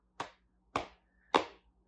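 Children pat their laps in time during a first-grade classroom game: three crisp, evenly spaced slaps about half a second apart, close and fairly loud, with silence between and no voices.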